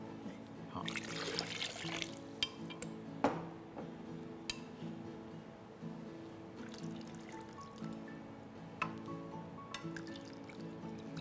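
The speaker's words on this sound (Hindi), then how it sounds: "इसमें और पानी डाल सकते हैं।" Water is poured into a pan for pumpkin soup in a kitchen, a brief splashing pour near the start followed by scattered drips and small clinks against a steady low hum.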